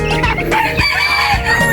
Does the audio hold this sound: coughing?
no